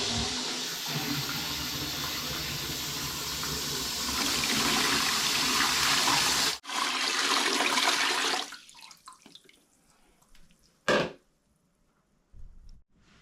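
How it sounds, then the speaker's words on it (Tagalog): Water gushes into a repaired toilet tank with a loud, steady rush that weakens and trickles out, followed by a short sharp splash and faint drips. "Lagyan natin ng tubig yan."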